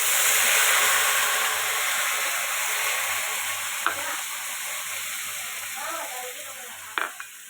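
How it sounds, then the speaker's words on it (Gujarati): Onion puree with cumin and a bay leaf fries in a hot pan with a loud, steady sizzle and hiss. A utensil clinks softly a couple of times, and there is no talking. "તમાલપત્ર નાખી દઈશું. ડુંગળીની પ્યોરી નાખી દઈશું."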